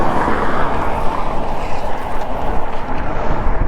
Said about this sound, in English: I thought I heard another car coming back down through there